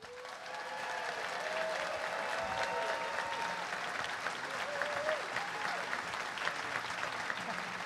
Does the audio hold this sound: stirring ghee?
no